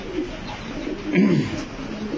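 Fancy imported pigeons at a farm coo in a short low burble, close by, with people talking in the background.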